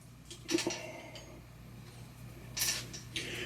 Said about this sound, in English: Take these 4 big bolts out.